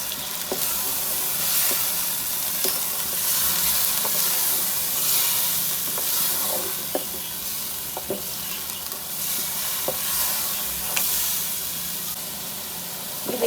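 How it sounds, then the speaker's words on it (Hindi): Ground chillies, coriander and spices being fried for a tinda and meat curry, a steady crackling sizzle with repeated clinks and scrapes of a spoon in the pot, and no talk. "पिसी हुई मिर्चें, धनिया, अच्छी तरह मसाले को भून लेते हैं।"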